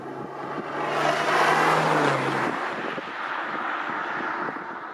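A turbocharged BMW on a test drive accelerates hard, the engine note rising in pitch under strong wind rush, then easing back into steady road and wind noise.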